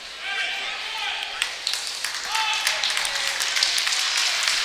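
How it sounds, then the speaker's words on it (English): Hometown crowd applauding player Chloe in the Lake City gym at a varsity girls basketball game, steady clapping with scattered claps and sneaker squeaks, talk heard over it. "Chloe comes out to a nice applause by the hometown faithful here in the Lake City gym"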